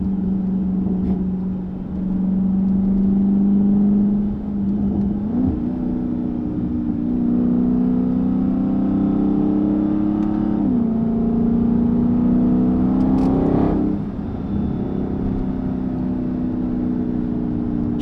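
Dodge Charger Daytona 392 emitting a steady high engine whine while driving, the pitch rising gradually and dropping back at each shift, heard from inside the cabin over a continuous road drone.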